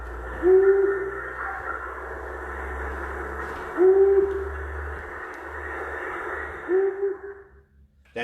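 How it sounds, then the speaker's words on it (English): Single low hoots from a long-eared owl repeat about every three seconds against steady background hiss and a low hum, each hoot brief and fairly close. "Here is the long-eared owl. Listen carefully to this guy."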